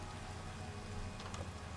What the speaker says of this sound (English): there's the rain that we couldn't see when we were over on the other side of town